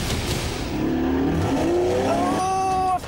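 Renault Megane RS 250 launching hard off a start line in a race against a Porsche, engine revving loudly and rising in pitch through quick gear changes with tire noise, close and continuous throughout.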